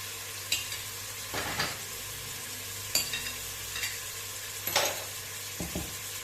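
Beef sizzles steadily as it fries in a pot while a utensil stirs and scrapes in several irregular bursts, close and clear.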